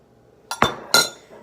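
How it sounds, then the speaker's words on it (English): A spoon knocks against a cup while scooping out leftover hot chocolate mix, giving three short, close clinks in quick succession with quiet between them. "There's a little bit of mix still left in here, so I'll just scoop that out"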